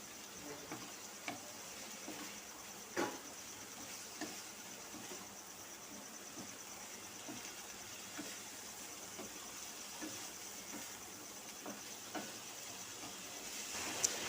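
Pieces of fried egg stirred into a sizzling spice masala in a pan, a soft steady sizzle with light scraping and tapping of the spoon at irregular intervals, fairly quiet and close.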